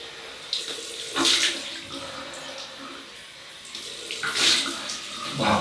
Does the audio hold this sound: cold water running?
yes